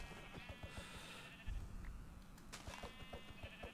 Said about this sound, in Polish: Ja widzę owce? Widzę owce.